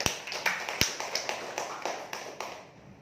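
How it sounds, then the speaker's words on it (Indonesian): Applause from an audience at an Islamic religious lecture event in Purwokerto, heard as a burst of clapping with sharp slaps that thins out and fades over a few seconds, with no talking. "Tepuk tangan untuk Bapak Ibu."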